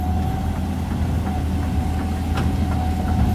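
A New Holland T7040 tractor runs with a New Holland baler, a steady mid-pitched engine drone holding constant throughout with a faint whine on top and no voices.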